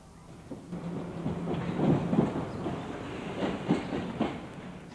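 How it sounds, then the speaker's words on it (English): Trains running on the former LNER line in 1966, with a steady low rumble and rhythmic wheel clatter, moderately loud and continuous, with no voices. "This 1966 film shows the trains bypassing the flyover built to take them over the new track"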